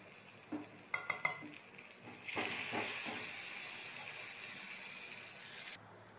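Spinach kadayal tempering sizzles steadily in a pan, a few sharp pops and spatters at first, then a continuous close, moderate hiss of hot oil that cuts off abruptly at the end.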